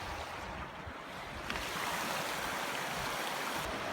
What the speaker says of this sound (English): I'm at the water side of the river crossing.